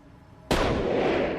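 A black gunpowder explosion: after a brief quiet moment, one sudden, loud blast erupts, then a dense, roaring rumble that lingers and slowly fades.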